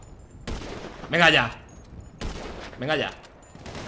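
Gunfire in the video game GTA V during a duck hunt session: bursts of shots at about 0.5 s and again at 2.2 s, each followed by a short spoken exclamation over continuing rattling fire.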